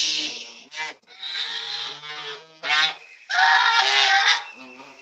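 A bird gives loud, nasal honking calls in several uneven bursts, some long and drawn out, close by with short gaps between.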